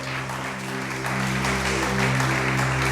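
A church congregation applauds during a sermon, steady dense clapping that swells slightly and continues throughout over a low sustained musical drone.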